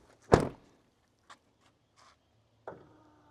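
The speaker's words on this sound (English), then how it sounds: "Got the step board that pops out every time you open and close the doors" Toyota Tundra truck door opening with a loud thunk as the power step board deploys, followed by faint mechanical clicks and a second softer thump with a short whirring tail.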